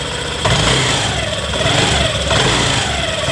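A rattling car engine idles nearby, then gets two distinct blips of the throttle, each swelling into a rough, clattering roar before easing back to a steady running note.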